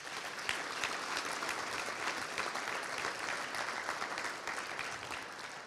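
Applause from the audience at an annual meeting and awards presentation, a steady, moderately loud patter of many hands that carries on without a break.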